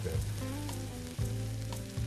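A hamburger patty sizzles loudly on a Genghis Khan grill pan, with steady, close crackling fat and a few brief scraping stirs, no voices present.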